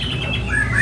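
A caged kacer (magpie robin) songbird at a bird singing contest gives a short, loud, harsh squawking call, close and sharp, with steady crowd ambience behind it.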